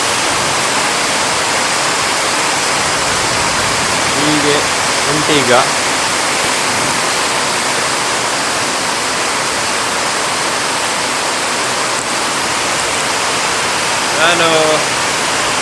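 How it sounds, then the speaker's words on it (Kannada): Heavy rain drumming on a roof sheet, a dense continuous hiss that stays loud throughout, with a voice speaking briefly over it a couple of times. "ಇದು ಅದರದ್ದು ಮಳೆ ಸೌಂಡ್ ಎಂಜಾಯ್ ಮಾಡಿ"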